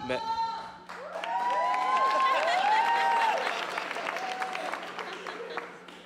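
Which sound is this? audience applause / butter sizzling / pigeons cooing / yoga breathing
audience applause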